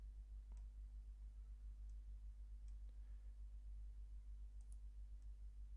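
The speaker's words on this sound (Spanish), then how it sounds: "hago doble clic" Computer mouse double-clicking in AutoCAD, faint soft clicks scattered over a steady low electrical hum, no voices.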